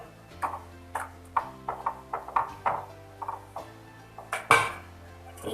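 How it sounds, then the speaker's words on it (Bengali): A utensil stirs chhana into hot sugar syrup in a pan, striking the metal again and again. About a dozen bright, ringing clinks come at an uneven pace, close by, each fading into a short metallic ring. "এবার আমি ছানাটা এটার মধ্যে অ্যাড করে দেব আর বারবার করে এটাকে নাড়তে হবে।"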